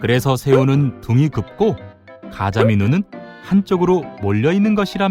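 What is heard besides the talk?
No distinct noise like a dog, phone or traffic.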